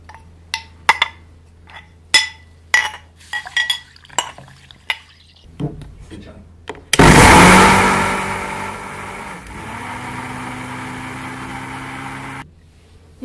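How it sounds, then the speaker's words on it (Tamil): Sprouted ragi and water in a kitchen mixer grinder: spoon clinks and handling knocks lead into a sudden loud motor whine that runs steadily for several seconds, its pitch shifting slightly as the grind settles, then cuts off abruptly. "நம்ம இப்போ பால் எடுக்கிறதுக்காக இந்த முளைக்கட்டிய ராகியை வந்து நம்ம மிக்சியில் போடுறோம்."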